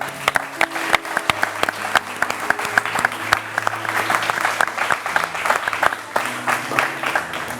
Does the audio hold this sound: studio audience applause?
yes